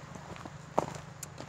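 An 18-year-old horse walking, its hooves giving a single sharp, close clip-clop amid a quiet outdoor background with a few fainter steps around it.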